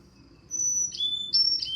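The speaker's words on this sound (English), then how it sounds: "That's the male territorial song." Male Carolina chickadee territorial song, a few very high, pure whistled notes alternating in pitch in a seesaw pattern, clear and fairly close against faint low background noise.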